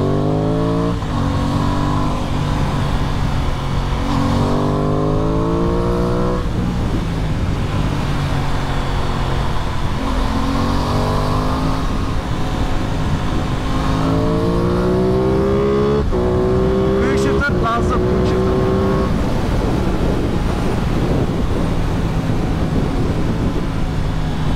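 An Aprilia Tuono 660 motorcycle engine is heard continuously while riding on the road, with repeated rising revs through the gears and steady wind and road noise throughout, close and loud with no talking.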